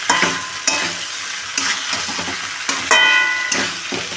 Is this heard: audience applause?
no